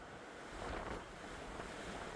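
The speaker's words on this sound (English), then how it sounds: "With all this wind, that's not good." Strong wind on a hiking trail in the mountains near the Mexican border roars steadily into the microphone as a broad, rushing wash that swells briefly, with no voices.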